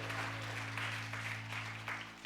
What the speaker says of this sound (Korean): 우리 박수 하나 합시다.